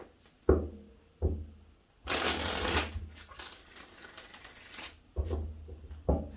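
Tarot cards shuffled in several distinct bursts: sharp riffling flurries with soft taps and a longer continuous shuffle in the middle, close and fairly quiet, with no talking.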